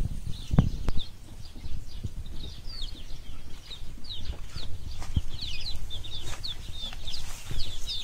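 Laying hens clucking and chirping in short bursts, fairly close, over a steady low outdoor rumble with occasional louder thumps.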